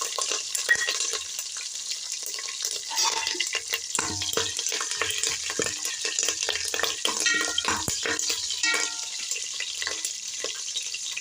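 Crushed garlic fries in hot oil with mustard seeds and curry leaves, giving a continuous close crackling sizzle with scattered pops and occasional stirring scrapes.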